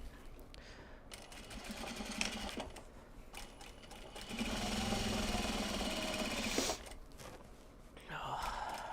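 A sewing machine runs in bursts while stitching shorts, its fast motor whir and needle patter rising to a steady, close run in the middle before stopping, with faint breathing nearby.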